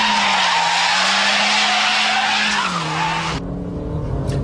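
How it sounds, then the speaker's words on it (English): A front-wheel-drive car drifts with its tyres skidding in a loud, sustained squeal. Engine tone shifts underneath, and the screech cuts off abruptly near the end, followed by a brief fainter chirp. "you've got to flick left, then right, let the tail go right out, and then hammer the throttle to bring it straight"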